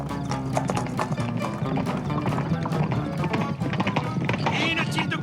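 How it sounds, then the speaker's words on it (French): Cartoon horses galloping as a group of riders arrive, a quick continuous clip-clop of hooves running under a music score, with a speaking voice present. "Hey Joe, il y a plein de cavaliers qui arrivent"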